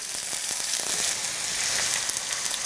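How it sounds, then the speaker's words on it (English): Marinated tempeh bacon strips fry in canola or olive oil in a pan, a loud, close, continuous sizzle with scattered pops and crackles and no talking. "we're going to take our strips and put them right in the pan and just fry them up"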